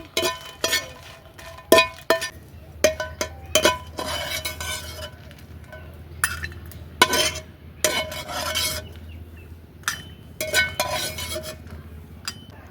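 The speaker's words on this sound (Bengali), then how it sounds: "শুকনো মরিচ কিন্তু হালকা করে ভাজতে হবে বেশি পোড়া যাবে না" Dried red chillies are stirred in a wok while lightly frying, with intermittent metallic scrapes, clinks and spoon knocks in irregular bursts separated by short quiet gaps.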